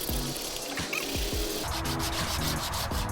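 A sander works over the engine bay of a 1996 EK hatchback, giving a steady rough rubbing and grinding hiss that is fairly faint and continuous, with no talk.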